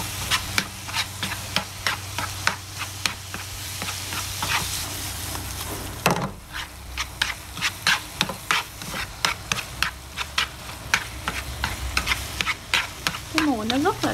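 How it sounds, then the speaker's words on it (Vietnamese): Pork trotters stir-fry with sugar and fish sauce in a cast-iron pot, a loud, steady sizzle broken by repeated scraping strokes of a utensil against the metal, close up, with no talk. "Rồi bây giờ em sẽ xào thôi."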